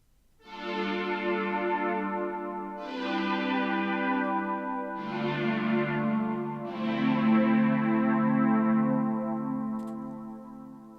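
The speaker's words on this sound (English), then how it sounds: "Now I will play chords on my Novation KS4 synthesizer with the effects pedal in bypass mode." A Novation KS4 synthesizer playing four sustained chords through an effects pedal in bypass, each chord struck cleanly and held with a dry, bright tone until the next one enters.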